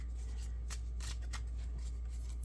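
Tarot cards being shuffled by hand in a quiet room, a soft papery riffling with a few brighter flutters, steady and close, with no one talking.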